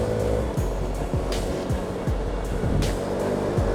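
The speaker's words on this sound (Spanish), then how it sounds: "Vean cómo se escucha la moto." Honda Forza 125 scooter engine while riding through Tacoronte, a steady low drone with recurring rising revs and heavy wind rush, loud and continuous with no talk.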